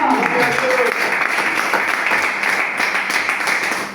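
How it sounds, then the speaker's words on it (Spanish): A church congregation claps for the Lord during a Spanish-language sermon, a full, sustained round of applause that stays loud and even for several seconds and tapers slightly at the end. "Denle un aplauso al Señor."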